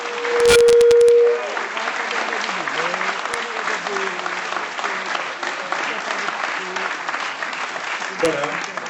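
Audience applause at a world film premiere screening, a steady crowd of clapping held at even strength throughout, with a brief whistle-like tone and a few clicks near the start and a sharp knock late on.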